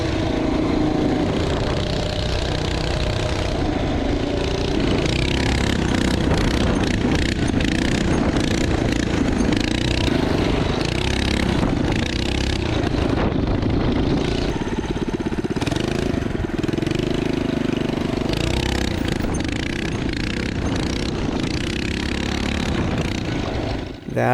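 The engine of a Stage 1 Coleman minibike runs loud and close for a long stretch, a rough, raspy mid-pitched drone that rises and falls slightly with throttle and shows no clear break.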